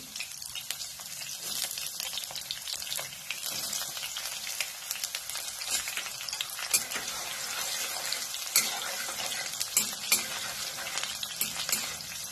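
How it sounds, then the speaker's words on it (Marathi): Garlic and green chillies frying in hot oil for a pumpkin and dill bhaji, a dense, continuous crackling sizzle with scattered pops and occasional louder spits, fairly close and steady throughout with no voices. "हे पहा, तेल चांगलं गरम झालेलं आहे। आता याच्यामध्ये मी प्रथम काय करते, लसूण घालते, पुन्हा हिरवी मिरची"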